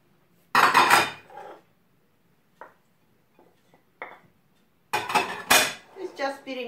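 A salad is tossed in a bowl, with two loud clattering bursts of utensils scraping and clinking against the dish, separated by scattered faint taps and a quiet pause.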